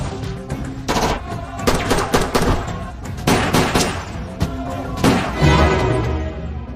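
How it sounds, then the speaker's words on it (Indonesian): Heavy gunfire in a film shootout, dense bursts of automatic weapons and sharp shots rattling continuously, loud and close, with scattered impacts and echoing reports throughout. "Sampai akhirnya ia ditemukan oleh Mustafa dan Zaveria, sehingga baku tembak pun terjadi."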